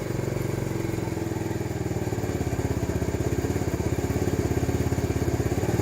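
A TaoTao 50cc Chinese scooter engine, bought not working and being repaired, revving and sputtering with a fast, steady pulsing putter that swells slightly louder, close up and alone.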